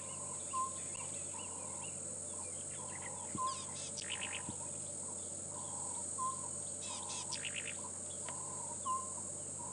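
Birds call during an afternoon safari drive in the bush, with repeated rhythmic hooting notes and occasional bursts of chattering calls over a steady high insect drone, moderately distant and with no talking.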